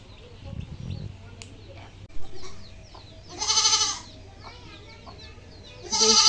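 A goat tethered near a papaya tree in a rural yard bleats twice, loud and close, the cries spaced a few seconds apart over soft background noise.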